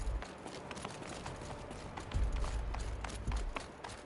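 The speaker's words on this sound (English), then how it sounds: "I'm pleased to hear another person stomping about in here" Heavy footsteps stomping about inside an enclosed space in Horizon Zero Dawn, a few low thuds rising after the midpoint amid busy game ambience, with no voices.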